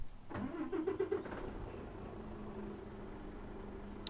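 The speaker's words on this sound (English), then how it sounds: "let's get this bad boy started" An automatic truck engine in American Truck Simulator cranks and catches in a brief starter whir, then settles into a steady, low idle drone.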